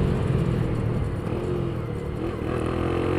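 A car engine hums and rumbles steadily just after a gear engages, a low continuous drone heard from inside the vehicle.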